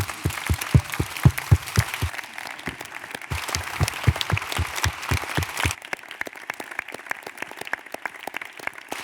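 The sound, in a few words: audience applause for the team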